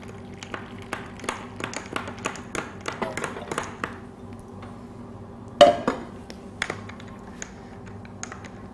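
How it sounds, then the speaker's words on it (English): A spoon stirs hot chocolate made with scalding water in a mug, giving a quick run of light clinks and taps against the ceramic, with one sharper knock partway through, close and without talk. "And give it a good stir."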